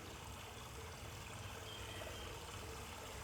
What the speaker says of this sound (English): sit down next to the stream as we just listen for a few minutes. Listening to the water.